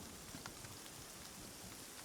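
Steady rainfall in the Sons of the Forest video game, a dense even hiss of drops on surfaces with faint scattered patters, quiet and continuous throughout, no voices.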